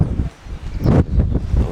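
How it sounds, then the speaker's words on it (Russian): Strong gusty wind in Tbilisi buffets the microphone in loud, low, rumbling bursts over a couple of seconds. "Ветер здесь сильнющий"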